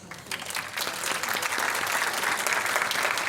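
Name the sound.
audience applause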